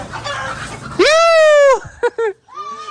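Chickens and a rooster call in a farmyard during a chase, with one long loud crowing-like squawk followed by two short sharp clucks, close by, amid faint background voices.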